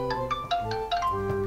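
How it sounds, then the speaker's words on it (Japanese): An outgoing phone call plays its ringback while waiting for an answer, a short melodic pattern of quick repeating electronic notes, clear and alone. "いろんな人に電話かけていこうと思います"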